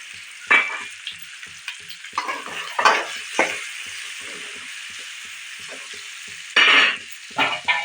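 Capsicum pieces fry in hot oil with turmeric for a soya keema, giving a steady close sizzle broken by several short bursts of stirring scrapes and clatter.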